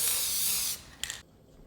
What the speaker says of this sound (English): If we're just doing a couple, we will just use the aerosol.